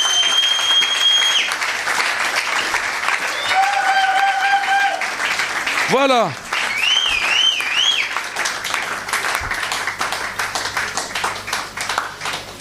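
A church congregation bursts into sustained loud applause and clapping to acclaim the Lord for a sister. A voice and warbling music tones ring out over the clapping.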